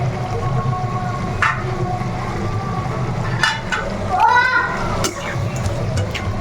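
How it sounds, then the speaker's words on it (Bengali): Prawns dropped into hot spiced oil in a home kitchen curry pan, a steady close sizzle with a few clinks and stirring scrapes, with a voice talking over it. "আমি ঠিক এই মুহূর্তটাতে এখানে চিংড়ি দিয়ে দিব"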